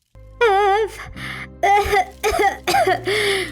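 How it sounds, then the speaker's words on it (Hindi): An elderly woman coughs repeatedly up close, several strained, groaning bursts with wheezy breaths between them. "अचानक कोने से दादी के खांसने की आवाज आती है।"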